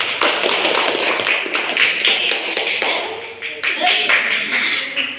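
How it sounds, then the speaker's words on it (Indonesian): Children clap their hands together in a classroom learning session, a busy patter of overlapping claps and taps running throughout, with voices chattering underneath. "Tepuk tangan buat semuanya."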